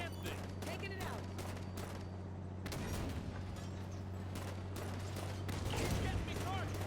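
Rapid gunfire aimed at swarming insect-like aliens in Halo 5: Guardians, steady bursts of shots over a constant low hum and game effects, fairly continuous throughout with no talking.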